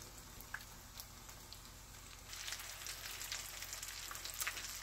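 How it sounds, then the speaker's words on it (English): Pork chops fry in hot oil with a faint, steady crackle that grows busier halfway through, with fine pops scattered over the sizzle and no voices. "you're going to just put it in your hot oil"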